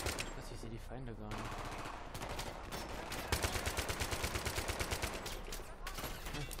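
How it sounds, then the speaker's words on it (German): Rapid gunfire and machine-gun bursts in Battlefield 3, loud and continuous with a rhythmic volley late on, under faint speech. "Wo schießen die bitte?"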